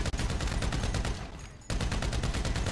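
Rapid, continuous automatic gunfire during a bank heist shootout in GTA 5, loud and dense, with a brief lull before the burst resumes.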